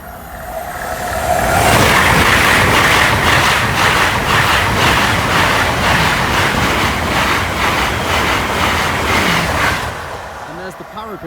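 Nine-car train passing a level crossing, rising to a loud, rhythmic rumble with repeated wheel clatter as carriages go by, then fading after about ten seconds amid wind noise.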